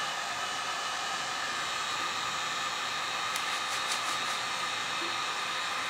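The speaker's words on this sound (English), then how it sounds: "For this step, we're going to use the heat gun, and we're going to do the dollar store one first" A cheap dollar store heat gun blows steadily as it heats plastic wrap around a pumpkin, a constant close hissing whoosh with no pauses, plus a few faint clicks.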